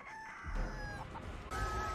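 A giant chicken in a horror video game lets out a loud, close crow with clucking notes, a sustained strained call over a low rumble, then a second burst near the end.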